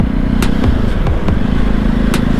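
A Jawa 42 motorcycle engine idles just after starting, a loud, close, steady low rumble with a few sharp ticks and clicks over it.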